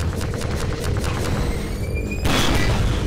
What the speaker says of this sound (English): Ah, my bomb!